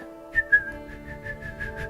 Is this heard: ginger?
no